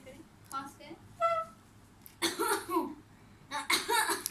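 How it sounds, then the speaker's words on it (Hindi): A clinic patient coughs hard in bursts, with loud harsh coughs near the middle and again toward the end, close and prominent, mixed with other voice sounds. "जैसा कि आप देख रहे हैं मरीज़ को सख्त खांसी लगी हुई है।"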